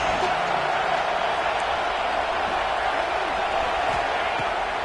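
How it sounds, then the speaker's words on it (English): A home crowd at a football game roars in a steady, distant wash of cheering that holds evenly throughout, with no distinct peaks. "how nice is it to have the home crowd going absolutely bananas"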